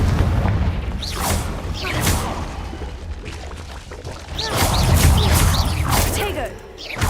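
Confringo fire spell blasts in the game Hogwarts Legacy, several booming whooshing explosions in quick succession over a dense rumbling game soundtrack, loud and close.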